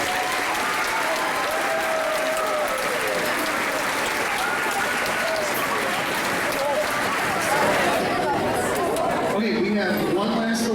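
Sustained applause from an audience at a school band concert, steady and dense throughout with chatter mixed in, a few voices rising near the end as the clapping thins.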